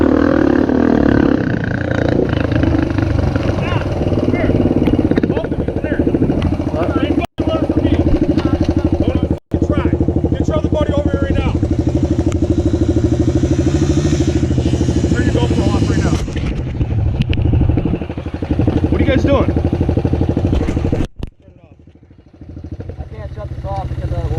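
Motorcycles rumble and roar continuously on rural trails, loud and close, with a person talking over the engine noise before it cuts off near the end.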